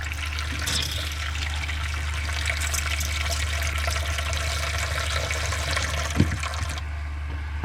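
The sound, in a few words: water flowing through RV plumbing from pump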